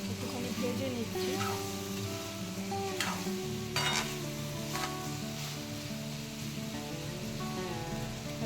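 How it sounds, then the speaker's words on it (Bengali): Potato and soybean frying with green chilli and ginger in a pan, a steady close sizzle with brief stirring scrapes, no talk over it. "একটুখানি ভেজে নিচ্ছি"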